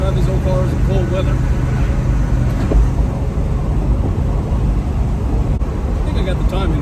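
An old Plymouth Barracuda engine idles in cold weather with a steady, rough low rumble, close by and continuous throughout.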